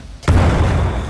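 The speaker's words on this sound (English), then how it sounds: "I didn't mean to throw grenades." A grenade goes off in the fast-paced shooter Titanfall 2: one sudden, loud, close blast after a brief quiet moment, followed by a heavy rumbling tail that fills the rest of the moment.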